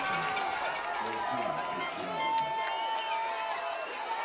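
A loud football crowd at a junior league championship game roars and cheers steadily, creating a sustained wall of noise as the opposing offense faces second and long, with a commentator talking over it.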